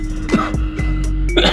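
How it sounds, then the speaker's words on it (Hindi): Coughing and throat clearing from a person with a cough despite taking a tablet, a few short close bursts across about a second and a half. "आज मैंने टेबलेट करी, उसके बावजूद मुझे खांसी हो रही।"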